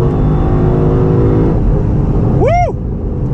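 Close, loud Lexus LC500 V8 exhaust holding a steady droning note under acceleration, with a brief rising-and-falling whoosh of a passing car near the end.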